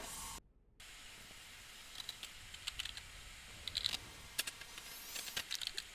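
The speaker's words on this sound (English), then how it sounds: "And then you're going to type a name in here" Quick bursts of clicking keystrokes on a computer keyboard as a file name is typed, faint and close in a quiet room, coming in short irregular clusters.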